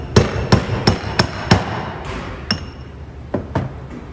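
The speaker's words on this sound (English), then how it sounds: "I'm gonna go behind all the way to the seal and just use the hammer and tap that out." A hammer taps a brass punch to drive out a seal, giving a run of five sharp, evenly spaced metallic strikes, then a few lighter, more scattered taps.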